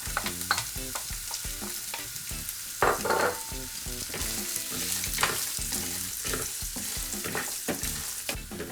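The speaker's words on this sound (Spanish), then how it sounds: "Lo sofreiremos durante un ratillo a fuego medio bajo." Hazelnuts and carrot fry in a pan over medium-low heat, a continuous sizzle broken by rhythmic scraping and clattering as a utensil stirs them again and again.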